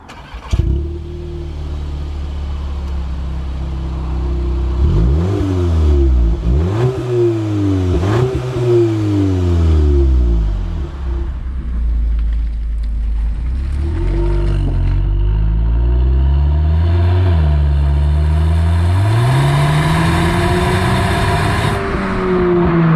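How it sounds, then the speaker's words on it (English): A 2022 Volkswagen Polo GTI's 2-litre turbocharged four-cylinder petrol engine revs hard several times, pitch sweeping up and down, then holds a loud sustained drone climbing toward a high whine near the rev limiter. "the engine sounds quite good, but then it gets a little bit drony as you get towards the rev limiter"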